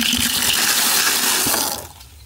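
Water gushing hard from an outdoor garden tap, a loud close steady splashing rush that cuts off near the end, no talk.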